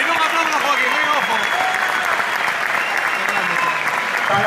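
A stadium crowd at a football match between Sporting and Betis applauds a departing player, sustained dense clapping and cheering that fills the whole stretch, with a commentator talking over it.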